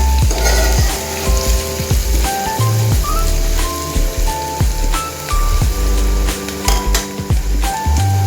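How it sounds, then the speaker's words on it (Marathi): Onions sizzle and fry in a pan for street-style anda bhurji, a loud continuous crackle with intermittent clinks of a utensil against the pan and a tonal hum underneath. "मस्तपैकी कांदा भाजतो आहे स्मूथली।"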